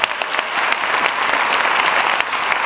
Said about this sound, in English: Please join me in a round of applause for all the musical performances today.